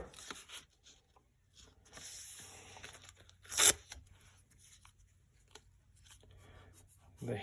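A strip of adhesive tape is torn off to cover the front of a steel knife blade, giving quiet scattered rustles and one sharp ripping tear, close and faint with no talking.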